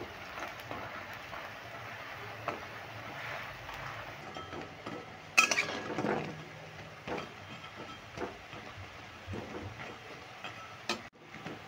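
Gima greens fritters crisp up in hot oil in a pan over medium heat, pressed down with a spatula, giving a steady close crackle with occasional sharper pops and spatula scrapes.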